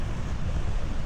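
Steady low surf rolling onto a sandy Baltic Sea beach in Estonia, a continuous broadband wash with some wind noise and no voices.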